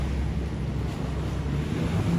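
A boat on the Thames passes as a low, steady engine rumble mixed with the wash of water and gusty wind noise on the microphone, continuous throughout.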